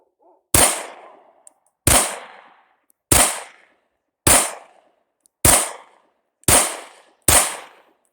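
Seven sharp, loud pistol shots from a Polymer 80 PFC9 loaded with a Glock 19 9mm magazine, spaced roughly a second apart, each with a short decaying outdoor echo.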